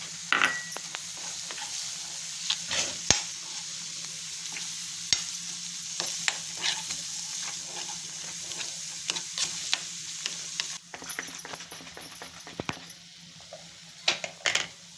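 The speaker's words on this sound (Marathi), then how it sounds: "2 मिनिटं चांगलं परतून घ्यायचंय" Brinjal curry being stir-fried in a pan with turmeric, red chilli and onion-garlic masala, a steady sizzle broken by frequent sharp scrapes and clinks of a spatula against metal, close and alone.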